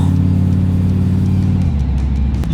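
A Pontiac Firebird III engine revs loudly and steadily up close, a deep throaty rumble with rising and falling pitch and no voices.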